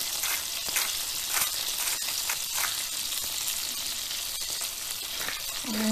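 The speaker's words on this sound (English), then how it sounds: "Once the garlic is lightly colored, add in the cherry tomatoes." Cherry tomatoes and garlic sizzle steadily in a hot pan, a continuous close frying hiss with faint stirring crackles and no voices.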